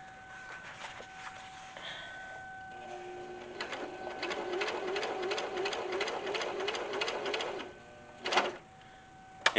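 A sewing machine stitches a leather vest in a rapid, steady mechanical run for several seconds, then stops with a couple of short clicks and handling sounds.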